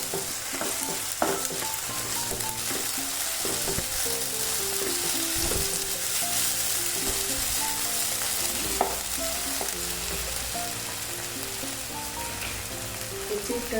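Ginger garlic paste for pepper chicken sizzles loudly in a hot pan, a constant close crackle like heavy rain, broken by occasional clinks and scraping stirs over the whole stretch.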